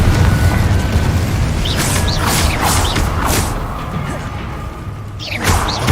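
Repeated Confringo blasting spells explode in Hogwarts Legacy, booming bursts with crackling debris and creaking mechanisms over a dense, continuous game soundscape.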